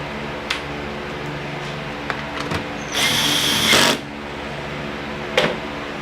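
A power tool drives a bolt during an oil change on a 2006 Volvo S40, with one loud, steady, close buzzing burst of about a second between scattered clicks and clanks of handling.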